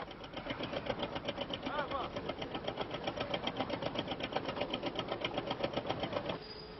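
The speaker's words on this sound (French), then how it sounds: "Hassan a un bateau de 10 mètres, tout neuf, équipé d'un diesel." A new 10-metre fishing boat's diesel engine idles with a steady, rapid, even chugging that runs evenly throughout and then drops away near the end.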